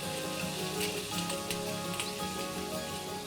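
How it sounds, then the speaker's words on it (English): Basmati rice in hot ghee sizzles in a continuous, fairly quiet hiss, with a few faint stirring scrapes near the middle, close by and without talk. "Now is when I'm going to be adding the basmati rice."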